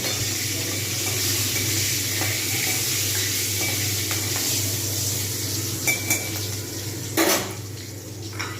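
Dried red chilies frying in hot oil give a constant bright sizzle, with a few clinks of a utensil against the pan near the end, close by and without speech.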